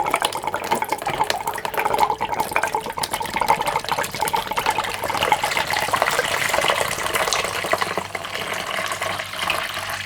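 Vinegar pours out of the tank of a vintage Swedish Primus No.5 stove in a continuous splashing, gurgling stream, close and fairly loud throughout.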